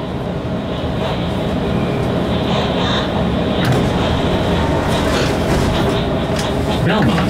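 A Chicago CTA Blue Line L train runs at night with a loud, steady rumble and intermittent rail clatter, and a voice sounds briefly over the din.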